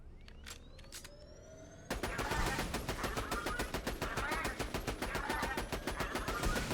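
Rapid automatic gunfire from a weapon in the video game Borderlands 2 starts abruptly after a quieter lead-in, a loud, dense stream of shots with steady rhythm lasting several seconds.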